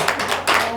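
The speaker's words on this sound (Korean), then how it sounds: "주님께 영광의 박수" A church congregation at a Wednesday worship service breaks into a short burst of hand clapping, a dense patter of many hands at close range.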